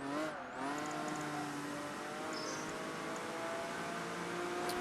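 A race car in Project Gotham Racing 3, driven on a Tokyo street circuit during an online race, its engine holding a steady loud drone with shifting revs and a short dip near the start.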